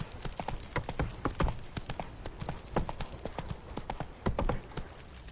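Roach, Geralt's horse in The Witcher, gallops in a steady run of hoof clip-clops, loud and close, with an occasional brief whinny and no talk over the hoofbeats.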